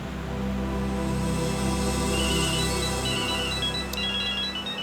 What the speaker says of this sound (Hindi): अरे फोन बज रहा है आपका।